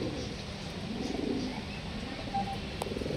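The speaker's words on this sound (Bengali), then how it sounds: "হ্যাঁ, এই হলো চোদ্দ কবুতর" Pigeons coo softly at a moderate distance, low throaty murmurs over a steady background hum.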